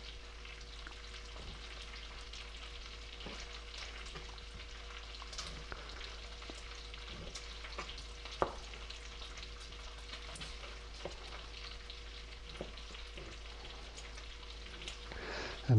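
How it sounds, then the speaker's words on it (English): Bacon browns in a pan as a steady, quiet sizzle with scattered crackles and a few sharp pops, heard alone at close range. "While the bacon's browning"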